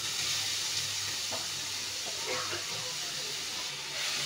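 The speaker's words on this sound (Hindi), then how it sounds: "अब मैं इसमें ये पपीता कद्दूकस किया हुआ डाल दूंगी" Grated raw papaya hitting hot desi ghee in a kadai for halwa, giving a steady broadband sizzle and hiss throughout, with a faint low hum underneath and no talking.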